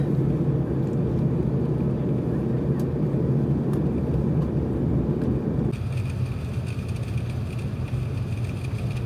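Steady, loud broadband cabin roar inside an Emirates A380 descending into Dubai, a continuous low rumble that shifts slightly lower and thinner partway through, with no talking.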